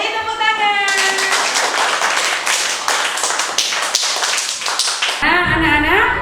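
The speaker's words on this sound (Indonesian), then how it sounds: "Nah, beri tepuk tangan." A primary school class claps in a quick burst of sharp, close hand claps between a voice before and after.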